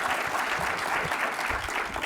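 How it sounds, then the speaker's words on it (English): A conference audience at a revenue summit gives a sustained round of applause, dense and even clapping that fills the whole stretch without pause. "Can we just please give Auntie Violet another round of applause?"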